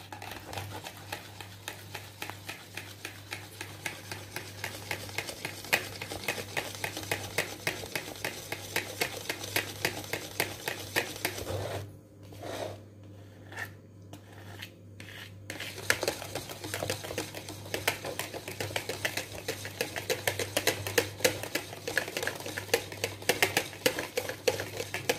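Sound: mixing rava pudding mixture in a bowl

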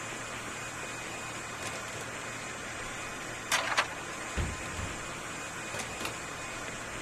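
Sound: hair dryer running in video game Joe's Diner

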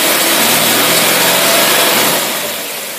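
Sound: outboard marine engine running rough, carburetor not pumping

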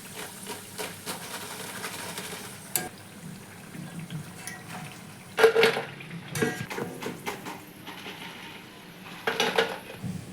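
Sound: taking fried potato pakoras out of hot oil

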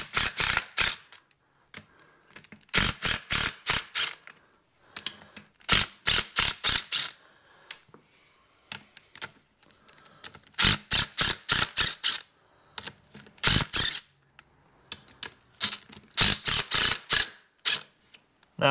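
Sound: impact wrench backing off a bolt with 5/8 socket

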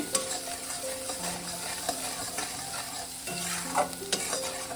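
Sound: stir-frying tilapia fish with salt in a pan

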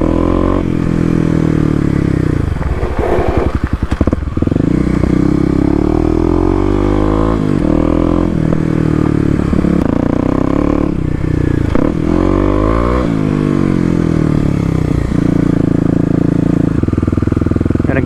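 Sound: Kawasaki KLX250 motorcycle riding off-road on a dirt trail

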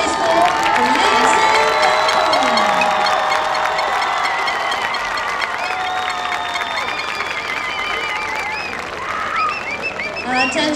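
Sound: crowd applause and cheering for a marching band

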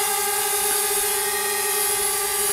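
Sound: DJI Spark drone hovering

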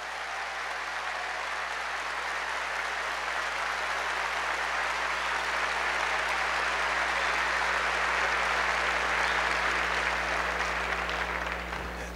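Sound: applause

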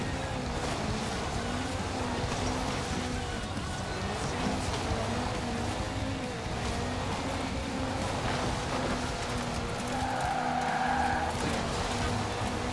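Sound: car drifting with skidding tires in video game Forza Horizon 4

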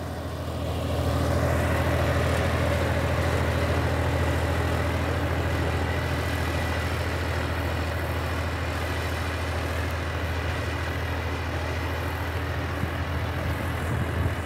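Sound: four-wheel-drive tractor engine running

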